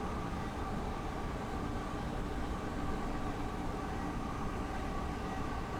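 Steady, dense rumble of a train in the Train Sim World 3 video game, a continuous rolling drone with broad noise, even and unbroken, with no speech over it.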